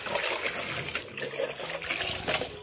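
Cow dung being stirred and mixed into water for compost-making, a continuous wet sloshing and trickling close by with small splashes throughout.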